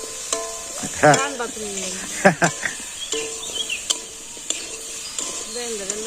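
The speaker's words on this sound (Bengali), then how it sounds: "হলুদের গুঁড়া, মরিচের গুঁড়া, ধনিয়ার গুঁড়া, লবণ দিয়ে দিল, তরকারিটা কষাইব" A curry seasoned with turmeric, chili and coriander powder and salt sautés with a steady low sizzle, punctuated by scraping stirs and utensil clicks while people talk nearby.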